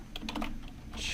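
Quick keystrokes on a computer keyboard, a short cluster of close, crisp key clicks with no talking.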